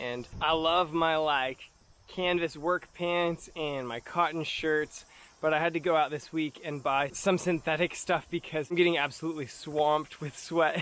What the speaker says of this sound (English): You guys can probably hear the cicadas in the background